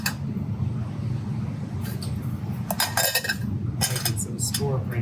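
Glass petri dishes clinking as mushroom caps are placed in them, several sharp close clinks and taps over a steady low background hum.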